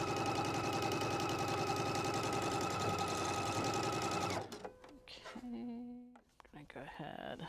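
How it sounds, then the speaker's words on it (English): Sewing machine stitching quilting fabric, a fast loud rhythmic chatter running steadily for over four seconds, then stopping as someone speaks over light handling sounds. "So I'm going to go ahead and back stitch. Okay, so I'm going to sew these on."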